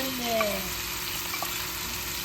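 Potatoes frying with spices in a pan for chicken tashreeb, giving an even, continuous sizzle close by with a few faint clinks and no talking.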